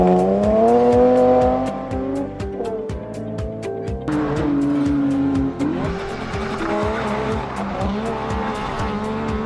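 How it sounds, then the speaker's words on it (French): A Saab two-stroke rally car races past on a stage rally, its buzzing, crackling engine loud and close with sharp rhythmic popping, revving through gears and briefly dropping pitch midway. "sa Saab 2 temps, au bruit caractéristique de notre époque"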